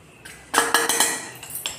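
Garlic, chili powder and cumin being mixed in a dish produce a brief run of close metallic clinks and scrapes of a spoon against the vessel, several quick strokes with no talk.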